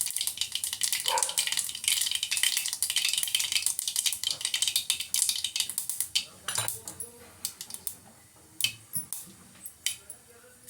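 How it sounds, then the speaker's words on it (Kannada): Mustard seeds spluttering in hot oil in a cooking pot while making uduru bele palya, a Uttar Karnataka toor dal dish, dense crackling at first that thins into scattered sharp pops, near and fairly loud, with no talking. "ನಾನೊಂದು ಪಾತ್ರೆಗೆ ಎಣ್ಣೆ ಹಾಕಿ ಅದಕ್ಕೆ ಸಾಸಿವೆ ಕಾಳು ಹಾಕಿದ್ದೀನಿ. ಅದು ಈಗ ಚಟಪಟ ಅನ್ನಕತ್ತೈತಿ."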